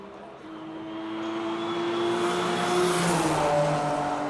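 A Nissan 370 race car on a top speed run, its engine note climbing steadily from moderate to loud as it approaches and passes with rising pitch, no voices present.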